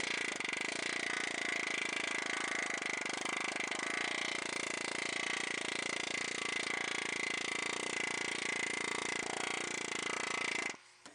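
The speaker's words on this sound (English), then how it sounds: "let's show the planishing hammer where we're going to smooth this flange" Pneumatic planishing hammer smoothing the flange of a sheet-metal motorcycle fender: a rapid, continuous buzzing hammering with a steady high ringing tone, loud and unbroken for about ten seconds before cutting off abruptly.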